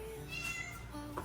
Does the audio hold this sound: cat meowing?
yes